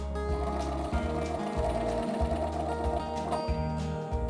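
A sewing machine stitching a patch onto jeans runs in a fast, steady mechanical chatter, close and loud, with brief pauses and restarts every half second or so.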